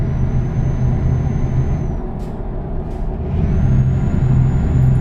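A truck in Euro Truck Simulator 2 with the Promods mod rumbles with a steady engine drone. Two short air brake hisses break in partway through before the drone swells again.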